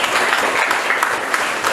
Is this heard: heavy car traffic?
no